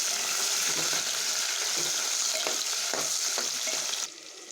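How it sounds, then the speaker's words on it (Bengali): Bay leaf and chopped onion sizzle in hot oil in a pan, a dense, continuous frying hiss with light stirring clicks, dropping off abruptly near the end. "তেজপাতা, পেঁয়াজ কুচি, একটু মিশিয়ে তেলের মধ্যে।"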